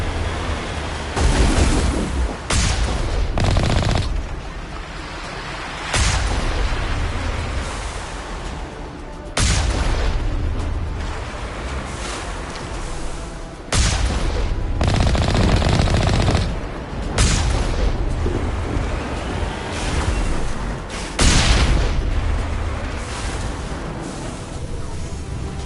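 Heavy artillery and gunfire in the Mass Effect 3 video game, with loud bursts of booming blasts and rattling fire that come in repeated waves across the whole stretch, with no talk.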